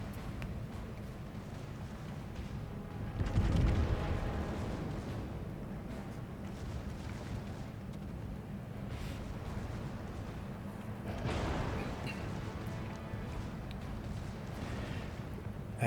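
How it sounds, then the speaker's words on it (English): World of Warships battleship secondary guns firing in repeated muffled booms, with two heavier bursts standing out over a steady rumbling battle background. "when the secondaries start going off, you know another ship is too close"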